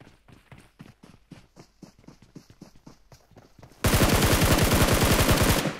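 Gunfire in PUBG Mobile on an iPhone 15 Pro Max: a run of rapid, evenly spaced shots, then a sudden much louder burst of sustained automatic fire close by, with no talking.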